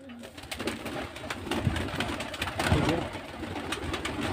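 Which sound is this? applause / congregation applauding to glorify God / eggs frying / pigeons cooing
pigeons cooing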